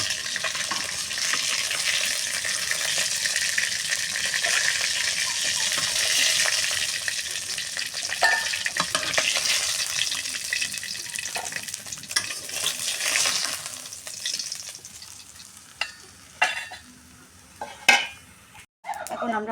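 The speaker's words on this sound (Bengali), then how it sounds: "হয়ে গেছে আমার মাছের ভাজি উল্টানো" Fish frying in a pan, loud continuous sizzling and spattering up close, with utensil clatter and scraping that grows more broken toward the end.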